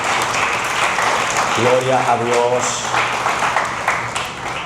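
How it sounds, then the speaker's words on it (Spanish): A church congregation at a spiritual congress applauds steadily, a broad wash of clapping running through the whole few seconds while a voice speaks over it. "Denle un aplauso nuevamente a Cristo."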